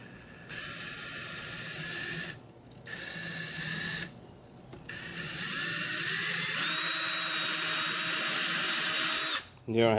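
A power drill whirs through three close bursts while boring pilot holes for the screws that will hold a speaker. Two short runs come first, then a longer one with a shifting pitch as the bit winds down.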